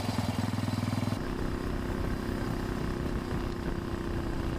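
A 1930s Terrot 250 side-valve motorcycle cruising in top gear, with a steady low thumping engine drone and wind noise, quite faint and unbroken.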